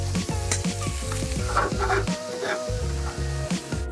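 Burger patties sizzle loudly on a grill, a steady frying hiss under repeated low scraping and clanking, with background music playing throughout.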